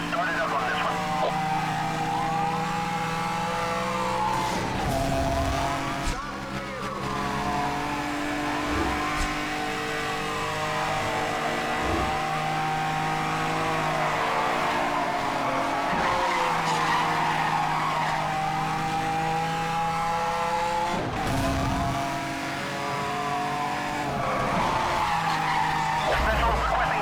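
Racing cars in Need for Speed Hot Pursuit skid and squeal repeatedly over sustained engine revving, with sweeping tire screeches and rising and falling engine pitch, while a voice talks over the action.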